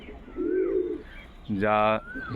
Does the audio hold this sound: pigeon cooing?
yes